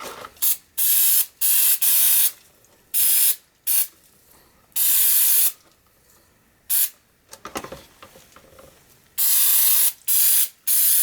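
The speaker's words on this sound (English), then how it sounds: "Carb cleaner, clean it right up." Carburetor cleaner sprayed onto an oil burner during an annual service, a series of sharp hissing aerosol bursts of varying length, close and loud, separated by quiet gaps with light clicks and handling noise.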